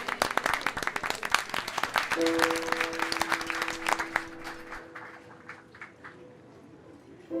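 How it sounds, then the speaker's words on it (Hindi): Loud, dense applause from a crowd greeting a performer on stage, sustained for several seconds with a steady tone running underneath, then thinning out toward the end. "प्लीज इनके लिए जोरदार तालियां"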